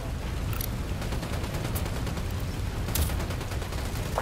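Gunfire in Ghost Recon Wildlands: a dense, steady barrage of shots with sharp bursts standing out near the middle and end, carried over a continuous low rumble.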